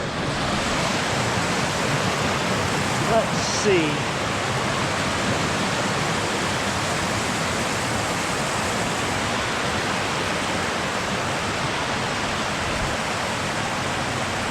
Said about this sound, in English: that's like a little bit of a proper waterfall